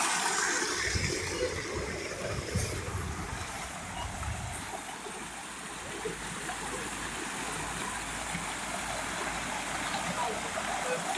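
Water rushes steadily from the waterfall at Silvado, a dense and constant wash of flowing water close by that runs through the whole stretch with little change in level.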